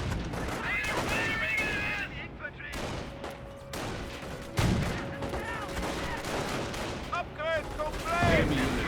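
A mortar round hits in a Company of Heroes battle, among bursts of gunfire and heavy explosions that crackle and thud across the clip, with game voice lines and battle effects around them.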